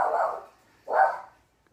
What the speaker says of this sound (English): My dogs want attention.